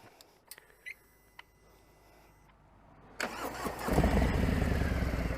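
A Harley-Davidson Fat Bob 114 motorcycle with stock exhausts starts after a few faint clicks and beeps, then settles into a steady, full low rumble at idle, fairly close and without talk.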